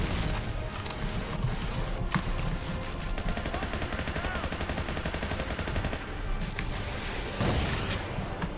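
Rapid gunfire bursts fill a League of Maidens match, steady machine-gun-like rattling with occasional sharper cracks running continuously throughout at a fairly constant loudness.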